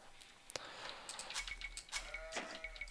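Sheep in a strategy video game with a Saracens civilization bleat several times in short, clear calls, moderately close, over a faint low hum.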